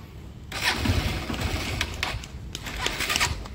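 A motorcycle engine cranks as someone tries to start it, giving a rough, close, steady mechanical churn for about three seconds with no speech.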